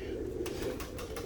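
Tippler cock pigeons in cages coo low and steadily nearby, while a few short rustles or flutters break in over the cooing near the end.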